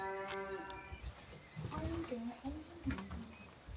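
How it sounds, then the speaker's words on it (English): A cow in Bulgaria lets out a low moo near the start, with other farm animals faintly in the background and people talking over much of the scene. "Move, cow."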